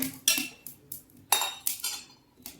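Someone stirs a pot of thick Kerala-style koottu curry, and a metal spoon scrapes and clinks against the vessel in about six short bursts, close and clear.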